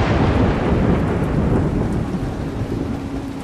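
Rain in the video game Road 96 pours heavily with a low rumble like thunder, a loud continuous downpour with no talk.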